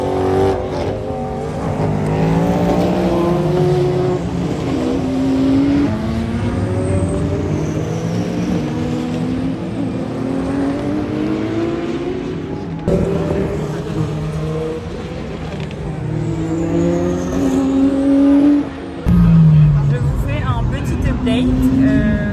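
Race cars at the 24 Hours of Le Mans roar continuously at close range, engines rising and falling through gear changes with passing whooshes, while voices talk over the din.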